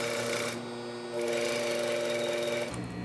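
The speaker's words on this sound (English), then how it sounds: "I'm just going to sew on a straight line from the notch all the way to the vanishing point" A sewing machine runs a straight line of stitching along a bodice dart, its steady rapid whir close and continuous with a brief change in pitch near the end, no voices.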